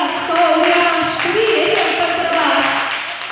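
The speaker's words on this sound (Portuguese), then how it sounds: "Vamos aplaudir ao Senhor Jesus." A worship congregation claps for the Lord Jesus during a Sunday home prayer gathering: steady rhythmic clapping runs throughout, mixed with sustained singing or music.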